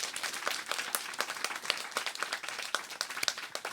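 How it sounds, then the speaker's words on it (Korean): A church congregation claps together in steady, dense applause during a worship service, the hand claps fairly close and continuous throughout. "감사의 박수 한번 해보세요"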